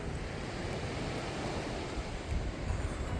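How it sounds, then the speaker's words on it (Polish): Wind blows hard across a seaside cliff viewpoint at a campsite in Chłapowo, a loud, continuous rushing roar with slight swells that fills the whole stretch, with no talking. "troszkę wieje"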